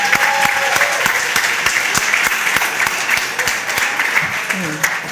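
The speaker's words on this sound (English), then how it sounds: "give a round of applause for you for being here tonight" Lively audience applause at a gala, a thick wash of clapping with some individual sharp claps standing out, and voices audible beneath it.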